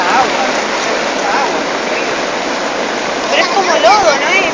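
A flash flood of muddy water in Potrerillos, Mendoza rushes past in a loud, close, continuous roar, with voices talking over it toward the end.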